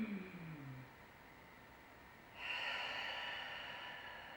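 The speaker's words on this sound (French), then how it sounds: "J'inspire par le nez, avec l'idée de rentrer un maximum d'air dans les poumons. Je souffle par la bouche" During a standing Pilates exercise, a person inhales slowly through the nose, then exhales in a long, steady, airy breath through the mouth, close and quiet, with no talking.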